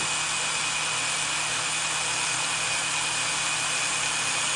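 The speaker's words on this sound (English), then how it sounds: "there's a fair bit of metal being pulled up by the drill bit" A power drill whines steadily and loudly without pause, a continuous high-pitched grinding hum as the bit cuts through a metal rod.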